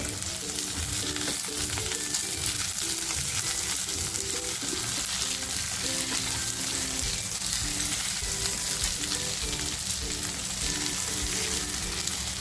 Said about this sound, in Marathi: आता बघा जो टॅमॅटो घेतला होता ना कापून तो टॅमॅटो टाकते